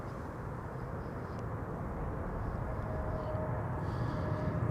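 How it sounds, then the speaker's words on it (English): A KLM Boeing 737-800 airliner arriving is heard as a distant, steady jet roar that swells slightly over several seconds, a broad hiss and rumble with no talk. "This is KLM flight 1772 arriving from Berlin. Another 737-800"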